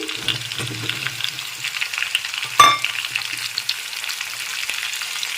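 Capsicum stir-frying in a pan for chili chicken, a close, steady sizzle with scraping stirs and one sharp clatter of utensil against the pan midway.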